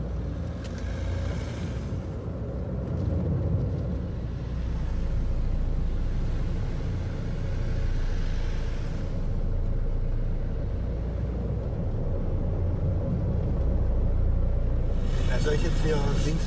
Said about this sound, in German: Lass das Auto an.